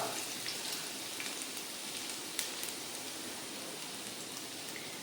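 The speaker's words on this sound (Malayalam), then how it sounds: "നമ്മൾ ചൂടായ എണ്ണയിലേക്ക് വെളുത്തുള്ളി ഇടുന്നു കേട്ടോ" Garlic sizzles in hot oil in a pan, a soft, steady crackling hiss with scattered tiny pops, fairly quiet and continuous with no voices.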